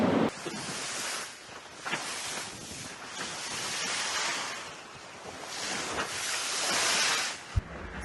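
Steady wind and rushing ocean waves at sea aboard a solo racing sailboat in the Vendée Globe, a continuous broad wash that swells and eases, with a brief knock near the end.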